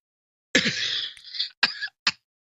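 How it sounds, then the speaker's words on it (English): A close, harsh cough followed by two shorter bursts, raspy and throat-clearing in character, with silence around them. "Let me cough."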